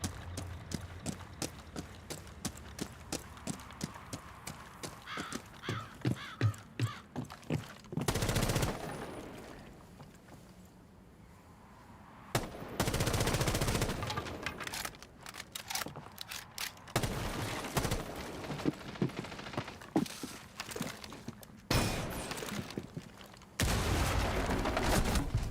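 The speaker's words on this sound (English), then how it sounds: "I'm shooting you in the head, bro" Bursts of rapid gunfire in a bomb-defusal shooter video game, some long sustained volleys and quick rattling strings separated by short quieter gaps, loud and close.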